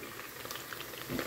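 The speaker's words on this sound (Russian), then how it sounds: "здесь вода уже кипит." Water bubbling at a boil in a pot, a close, steady rumbling hiss with soft popping bubbles, growing slightly louder toward the end.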